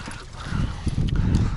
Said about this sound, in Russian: Ходят кони, как ты там поешь.